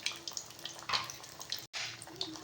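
Water pours steadily into a pan of simmering murrel fish curry, a soft continuous splashing and gurgling with a brief break near the end, fairly quiet and close.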